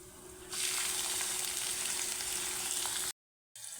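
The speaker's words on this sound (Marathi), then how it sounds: "आता कांदा टाकून घेऊ" Chopped onion drops into hot oil with cumin and spices and sizzles loudly and steadily up close, a bright hiss that stops abruptly before briefly returning, with no talking.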